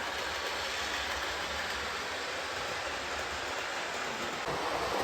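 A Class 419 Motor Luggage Van model locomotive runs steadily on track, giving a continuous close rolling rumble and broadband hiss for the whole stretch, with no voices.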